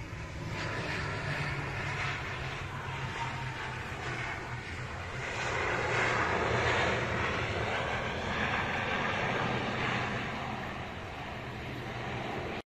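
A US-Bangla Airlines ATR turboprop flying in from Chittagong on approach to land at Dhaka, heard as a steady, loud engine roar that swells slightly mid-way and holds over broadband wind noise, with no talking.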